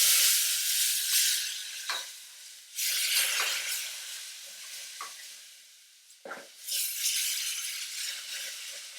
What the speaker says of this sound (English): So I am just going to slowly whisk this milk in.